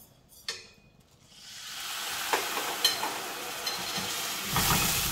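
Brandy splashed into a hot pan of Cabrales blue cheese sauce with escalopines, igniting into a steady loud sizzle and hiss that swells after a sharp initial splash, with brief crackles and pops.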